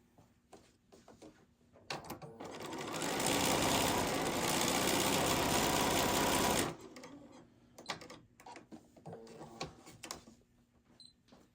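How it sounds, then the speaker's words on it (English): A sewing machine stitches a seam on a log cabin quilt block, running in one loud, steady whirring burst of about five seconds, framed by quieter handling clicks and fabric rustles before and after. "Then I'm going to sew on the opposite side."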